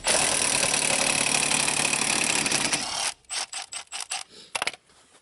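Loud grinding and ratcheting metal creaks, then a series of sharp cracks and pops from a strained, rusty scissor jack mechanism, close by.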